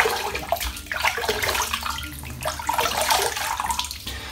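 Running water splashes steadily as hands wet a face before a wet shave at a sink, a continuous close splashing wash with no talk.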